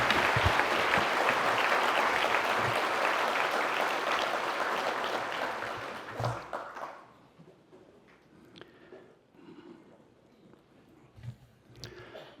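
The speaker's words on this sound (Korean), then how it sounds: "권성수 목사님을 박수로 환영해 주시기 바랍니다" A church congregation in Korea applauds to welcome the pastor, with a full, sustained wash of clapping for about six seconds that fades into scattered claps, shuffling and room noise.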